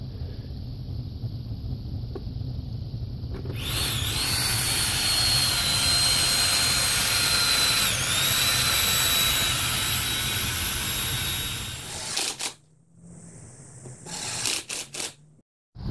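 A Toyota Tundra ABS pump motor fed 12 volts from a jump pack made of Prius hybrid cells spins up with a loud, steady high-pitched whine. It runs continuously for about eight seconds, then cuts off, followed by a few short bursts.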